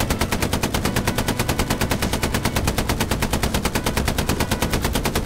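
A machine gun fires in the World War II shooter game Hell Let Loose, a loud, relentless rapid burst of evenly spaced shots that carries on without pause.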